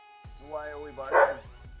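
A single short dog bark, close and fairly loud, with a harmonic yelp-like tone lasting under two seconds.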